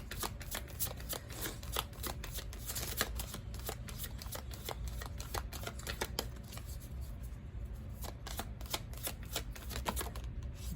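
A deck of oracle cards shuffled by hand, a rapid crisp riffling and flicking that runs steadily and close throughout with no speech.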